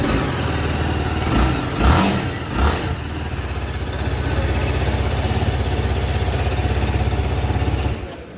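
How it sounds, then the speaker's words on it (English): A nearby TVS Apache RR310 sport motorcycle engine idles, blips its throttle in a couple of quick revs, then returns to a steady, throbbing idle. "Let's check the sounding of this bike. This is the way the bike sounds."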